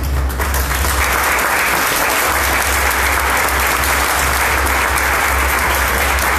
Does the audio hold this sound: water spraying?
no